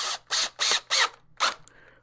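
A screw is driven into wood with a power driver: five short, loud, whirring bursts in quick succession, the last trailing off into quiet.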